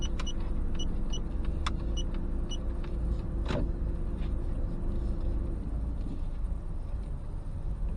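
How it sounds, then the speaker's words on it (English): A car reverses slowly during a driving test manoeuvre, parking on the right close to the kerb, with a steady engine hum and a faint mechanical whir under it. "once you reverse back 2 car lengths, keep yourself reasonably close to the curb"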